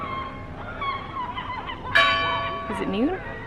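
A single church bell strike rings out and hums away on the island of Vis, Croatia, over soft ambient noise and faint distant voices.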